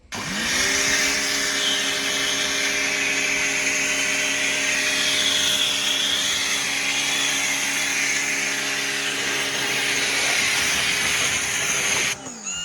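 A Mächtz MPW-1758 mini pressure washer starts up and sprays water with a loud, steady motor whine and hissing jet, close by and sustained for the whole stretch before stopping at the end.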